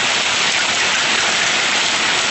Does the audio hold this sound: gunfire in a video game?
no